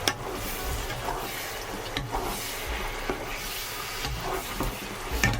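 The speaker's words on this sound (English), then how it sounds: "you can just slowly stir it with the back of your spatula like this to cover it with sauce" A spatula slowly stirs mid-soft tofu through mapo sauce in a pan, with soft scraping and a gentle sizzle in a steady wet rhythm, close and moderately quiet.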